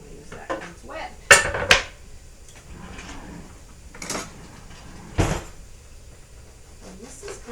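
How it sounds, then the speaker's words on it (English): Bread for French onion soup is sliced with a knife in a home kitchen: a handful of sharp, close clacks and short scraping strokes, spaced irregularly, with quiet gaps between them. "So I'm going to slice up the bread."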